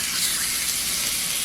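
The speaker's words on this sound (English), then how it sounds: "So this is the second batch that I'm gonna sear" Floured rabbit meat sears in a hot pan with a loud, steady, close hiss and sizzle that continues without a break, and no voices.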